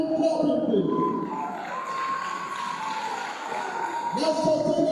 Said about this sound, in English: Let us keep on clapping, please.